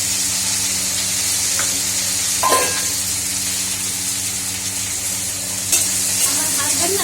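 Food fries in a pan with a little extra oil added, giving a steady loud sizzle, and a utensil scrapes and stirs in a couple of brief bursts.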